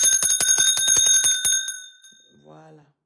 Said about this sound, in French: Tu veux savoir quoi c'est la cloche